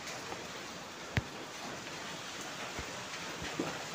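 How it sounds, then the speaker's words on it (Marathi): Monsoon rain falls steadily on a house in the hills of Matheran, a soft, even hiss of drops with a few faint knocks and taps, heard alone without talk. "पाऊस येतोय आत। बघा, वाढला पाऊस, आता आवाज जास्त यायला लागला"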